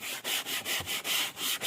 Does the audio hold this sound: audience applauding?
no